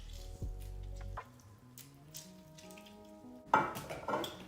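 Juice from half a lime squeezed over roasted corn, with soft wet squishing and dripping near the end, over a faint steady tonal background.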